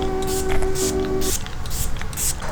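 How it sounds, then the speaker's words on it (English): Catrice Dewy setting spray misted over a finished makeup look, several short bursts of fine hiss from close by, with a soft background tone running underneath the first part. "I'm gonna use the Catrice Dewy Spray one more time"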